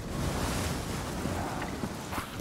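Water rushes in a continuous, loud, broadband roar that pushes the player down in Black Ops 3 Zombies on the Shangri-la map, with no talk over it.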